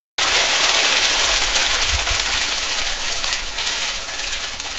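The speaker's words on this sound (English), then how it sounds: "Water being poured on a fireplace." Synthetic sound of water poured onto a fireplace: a steady, loud broadband hiss and splash that runs unbroken from start to finish, easing slightly toward the end, with no voices.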